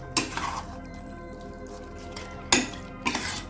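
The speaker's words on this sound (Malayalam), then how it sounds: "ഇത് നന്നായി ഒന്ന് ഇളക്കിയെടുത്തതിന് ശേഷം ഇത് നന്നായി ഒന്ന് തിളപ്പിച്ചെടുക്കാം" Beef curry is stirred in a pot, with three short scraping clatters of a spoon against the pot spaced across a quiet background, close, with no talk.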